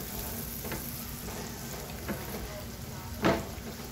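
Chopped onions sautéing in melted margarine give a steady, soft sizzle with a few light scrapes or clinks of a utensil against the pan.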